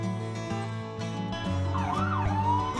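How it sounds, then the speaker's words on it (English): A police siren wails with a rising and falling tone, moderately loud over a steady engine-like hum. "Police car."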